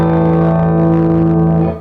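Electric guitar through a Laney tube amp plugin, one sustained chord ringing loud and steady and breaking up into mild crunch, then cutting off sharply at the end.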